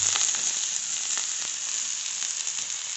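Onion, garlic and chili hit hot oil in a home kitchen, producing a steady, loud sizzle with crackling pops and occasional stirring scrapes, with no talking over it.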